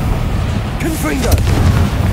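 A Confringo explosive spell goes off in Hogwarts Legacy, a single booming blast with a crackling burst that rises over the game's dense, continuous rumble of effects.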